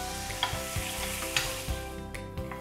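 Soy sauce and pan liquid sizzle loudly around duck breast in a frying pan, with a busy bubbling hiss and repeated stirring or scraping knocks.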